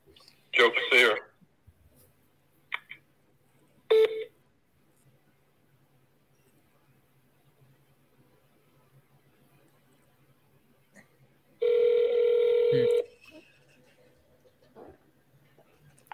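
Two separate bursts of telephone dialing tones, a short one near the start and a longer steady one later, carry moderately loud over a faint background hum, with a few soft clicks in between.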